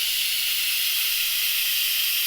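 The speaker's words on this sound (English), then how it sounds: "So you want to just vent it regularly with your face out of the way" Steam hisses steadily out of an Instant Pot pressure cooker's release valve during a manual vent after cooking, a loud, continuous, unbroken rush with no voices over it.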